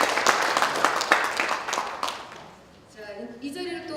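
Applause of thanks from the audience at a Korean cooperation conference, a short burst of clapping that tapers off before a voice comes in over it.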